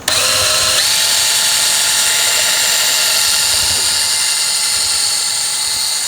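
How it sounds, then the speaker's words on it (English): Power drill fitted with a 1/2 inch bit boring through a New York strip beef roast: a high, steady, loud motor whine starting abruptly and holding continuously with slight pitch drift, close up. "I am actually going to be using my power drill today with a 1/2 inch drill bit"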